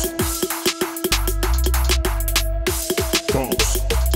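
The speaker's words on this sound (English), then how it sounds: "it's a basic roll that sounds like this." Riddim beat with a basic drum roll, rapid bouncing hits over booming low bass and a steady melodic pattern, loud and continuous with no talk.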